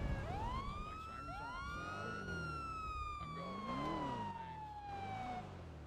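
A police car siren wailing in a city street, rising and falling sweeps repeating over a low idling engine rumble, loud and close, with no voices.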